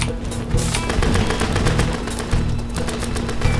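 Rapid automatic gunfire from an assault weapon in the farming shooter game Shotgun Farmers, loud, dense bursts of shots continuing steadily throughout with a low sustained game soundtrack underneath.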